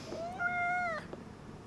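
A cat meows once in the video game Life is Strange: Double Exposure, a single clear rising-then-falling meow lasting about half a second, close and alone without talk.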